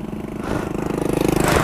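A Sigma 250 motorcycle fitted with an aftermarket Akrapovic exhaust with a carbon tip idles nearby, its deep rhythmic pulsing growing steadily louder as the throttle opens slightly.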